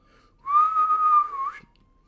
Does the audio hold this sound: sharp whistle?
yes